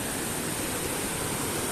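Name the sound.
Dudhsagar waterfall in Goa, India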